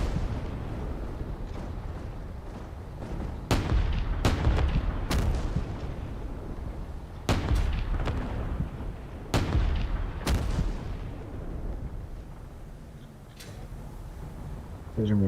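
Weapons fire in a Space Engineers RTS battle, with heavy thuds and booms arriving in a loose irregular series over a steady rumbling background. A voice talks over the battle noise.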